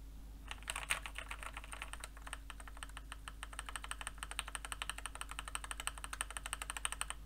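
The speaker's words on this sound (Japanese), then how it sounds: "まあ、こんな感じで、キーボードの音を拾うかなと思います。" Rapid, steady typing on a computer keyboard, keys clicking continuously and close by over a faint low hum, picked up by a Corsair HS65 headset microphone.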